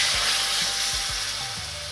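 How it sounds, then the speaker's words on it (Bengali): Water goes into a sizzling pan of fried boiled potatoes, bringing a burst of hiss that slowly fades, with a few stirring knocks underneath. "এইবার আমি জল দিয়ে দিচ্ছি"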